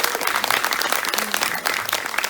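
Audience applause at a film Q&A for the Eraserheads documentary "Combo On The Run", a dense steady wash of many hands clapping close by, with no talk over it.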